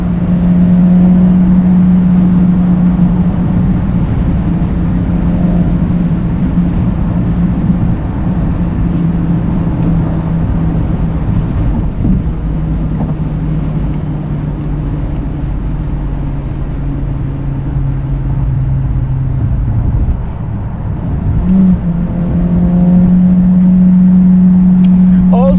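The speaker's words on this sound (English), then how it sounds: "It's a beautiful sounding engine." A 2023 Acura Integra A-Spec manual engine hums and revs steadily throughout, a low droning rumble that dips midway and rises again toward the end.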